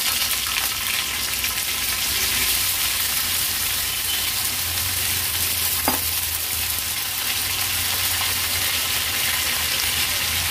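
Thin potato slices, washed and held in water, sizzle steadily in hot oil in a home kitchen while a Maharashtrian thali is cooked, with a continuous bright crackle and one brief sharper burst midway, no talk.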